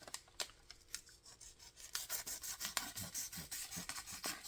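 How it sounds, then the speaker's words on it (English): A knife blade scrapes and rasps across paper without cutting it. The dry, uneven rubbing strokes are close and fairly faint, with no talking. "let's see if this will cut paper"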